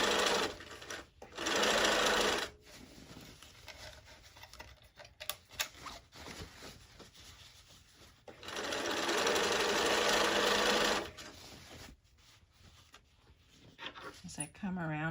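A sewing machine stitches lunch bag fabric in two sustained loud bursts of fast, even whirring, with quieter handling, clicks and rustle between them.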